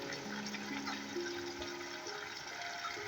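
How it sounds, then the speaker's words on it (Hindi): Water poured into a pot of chicken rice cooking for a Singaporean-style dish, a steady watery splash and hiss that fills the whole clip, with some tonal kitchen hum running underneath. "ये मैंने पानी ऐड किया है"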